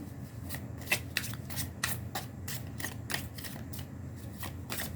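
A deck of tarot cards is shuffled by hand at close range, making a rapid run of crisp riffling flicks and slaps that repeat steadily, with no talking.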